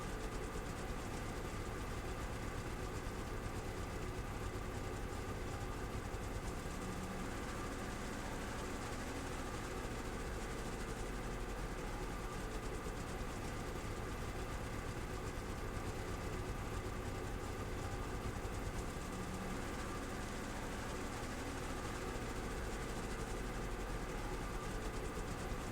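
The engine room of a ship in a video game gives off a constant low mechanical rumble and hum, unbroken and even for the whole stretch, with no talk.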